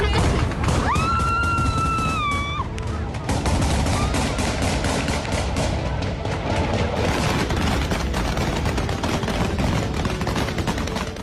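Taliban fighters fire guns at protesters in Kabul, a dense, continuous crackle of shots and bursts over loud crowd noise, with a rising whistle-like tone early on.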